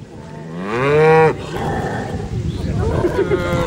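Dairy cows on an organic farm in Mahalon, recently calved and just separated from their calves, let out a loud, drawn-out moo. Lower, rougher lowing and grunting follow in a busy barn.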